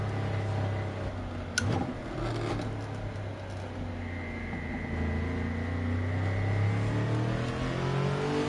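A car engine in Gran Turismo 7 hums and revs, its pitch rising and falling in smooth sweeps, with a short sharp knock early on and steady road noise beneath, no voices.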